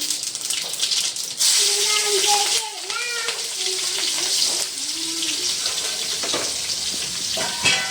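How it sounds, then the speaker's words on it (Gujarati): Hot oil sizzles and crackles as a tempering is poured over khaman dhokla in a home kitchen, a continuous loud hiss with a short burst of frying. A person talks briefly over it. "ખમણ ઢોકળા વઘારું છું."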